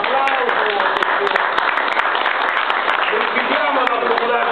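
An audience at an outdoor party political festival in Casoria applauds as a politician enters, the steady clapping running the whole time beneath someone talking over a microphone.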